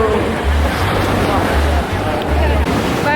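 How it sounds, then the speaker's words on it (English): Ocean surf at a beach gives a steady, loud rush of washing water, heavily buffeted by wind noise across the microphone throughout. "We made it to the beach, you guys."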